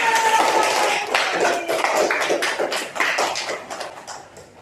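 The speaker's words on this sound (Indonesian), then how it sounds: "Tepuk tangan." Classroom applause from a group of schoolchildren, a dense burst of many hands clapping close by that gradually thins and fades over a few seconds.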